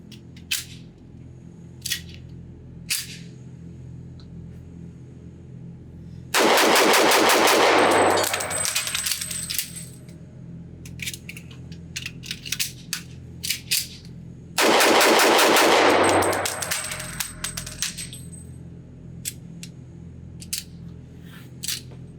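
Kimber Ultra Carry lightweight officer-sized 1911 pistol fired at an outdoor range in two rapid strings of loud, close shots, each followed by ringing echoes, with scattered single shots from other shooters before, between and after.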